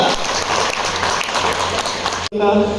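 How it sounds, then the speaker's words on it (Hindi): Seated audience at an investment platform event breaking into loud, dense applause with cheering and hooting, a continuous roar that cuts off abruptly near the end, followed by someone speaking. "एक बार हूटिंग और तालियां इस प्लेटफॉर्म के लिए हो जाए"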